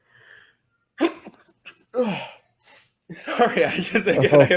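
An allergy sneeze erupts close to the microphone during a project discussion, with short breathy sounds and a bit of speech around it and talking continuing right after.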